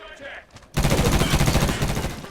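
In the video game Medal of Honor, a door bursts apart: a sudden loud crashing, splintering noise breaks in after a quiet moment, then continues as dense, rumbling debris for about two seconds.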